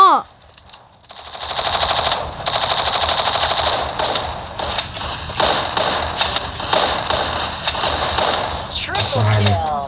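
Gunfire in the mobile shooter Free Fire rattles through several rapid automatic bursts, with loud clustered shots, short pauses and uneven thuds, and faint voices and game sounds mixed in.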